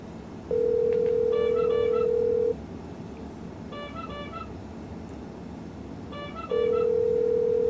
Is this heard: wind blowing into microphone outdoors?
no